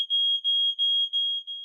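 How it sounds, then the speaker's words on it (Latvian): A smoke detector shrills a piercing, steady high tone broken into rapid repeating beeps, loud and close with no other sound. "katrā mājoklī obligāti jābūt uzstādītam dūmu detektoram, kas kritiskā brīdī var glābt dzīvību"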